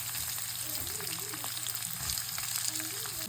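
Chopped onions sizzling in hot oil with popped mustard seeds, curry leaves and green chillies while making rava upma, a steady close frying hiss with faint low hum and no talk.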